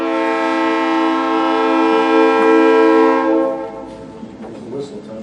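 A train horn blows a long, loud, sustained chord for about three seconds near a Stafford, Connecticut meeting, then cuts off, leaving quieter background noise and faint voices.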